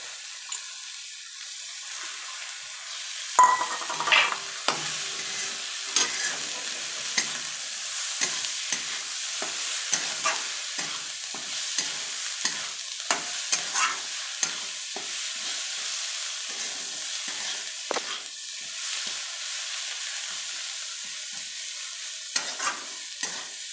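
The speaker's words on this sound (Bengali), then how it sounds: "এবার এই যে সজনে পাতাটা আমি দিয়ে হালকা ভাজবো" Drumstick leaves sizzle steadily in a hot pan while a utensil stirs and scrapes them, with irregular clicks and taps over the continuous frying hiss.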